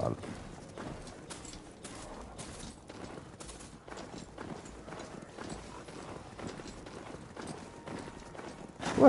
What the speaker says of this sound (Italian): Cavallo, siamo un cavallo.